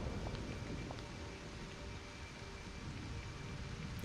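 Rainfall in the video game Disney Dreamlight Valley, a steady soft hiss of falling rain with faint scattered drop ticks, low in level and constant throughout, with no voices.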